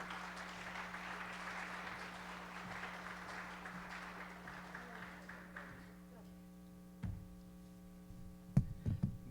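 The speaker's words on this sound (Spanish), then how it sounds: "Recibamos con un fuerte aplauso al arquitecto Roberto Mora." Faint applause from a conference audience greeting an architect taking the microphone, low and steady over a mains hum for about six seconds, then dying away into quiet room sounds with a few knocks.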